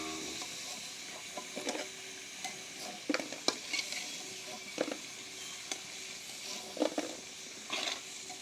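Potatoes fry in a hot pan for a Bengali chicken curry dish, a soft steady sizzle with intermittent spatula scrapes and clinks against the pan, close and moderately quiet, with no talking.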